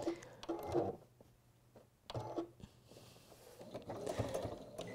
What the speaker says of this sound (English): so that we can then stitch across that bottom